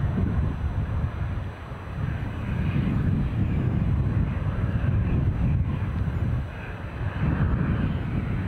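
An Air France airliner at Edinburgh Airport gives a steady, fairly distant low engine roar that swells and eases, heavily mixed with gusty wind buffeting the microphone.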